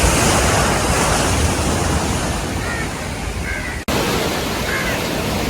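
Sea waves breaking on the shore near Valiyathura bridge in Trivandrum, a steady loud wash of surf with continuous wind roar, briefly cut near the end before resuming.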